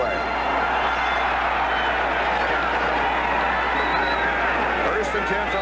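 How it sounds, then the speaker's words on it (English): An enthusiastic football stadium crowd at the 1979 Dallas Cowboys at Philadelphia Eagles game roars as a constant loud wash of noise, with a voice talking over it. "It's going to be difficult to hear throughout the afternoon. What an enthusiastic crowd."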